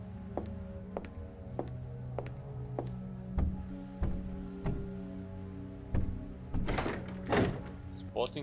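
A locked door being tried in a video game gives a series of short dull knocks and rattles, evenly spaced, then two louder clattering bursts near the end, over a steady low game ambience.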